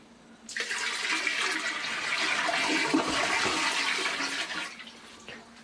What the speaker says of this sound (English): all you have to do is grab your bucket, hopefully you don't spill it all over the place, and pour it into the toilet